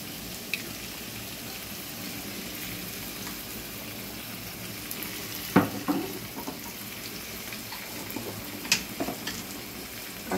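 Soya chaap fries in a pan with a steady, even sizzle and hiss and a few faint clinks and scrapes of stirring. No one speaks.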